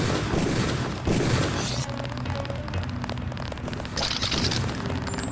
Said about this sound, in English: the sound of gunfire rings out from a nearby homeless encampment